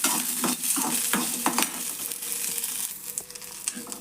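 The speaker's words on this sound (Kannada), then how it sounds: "ಸ್ವಲ್ಪ ಎಣ್ಣೆ ಹಾಕ್ತಾನಂತ ಹಾಕ್ಕೊಬೇಕು ಉಳ್ಳಾಗಡ್ಡಿ" Onions frying in oil for chicken gravy give a continuous close sizzle, with irregular scraping and crackling as a spoon stirs them around the pan.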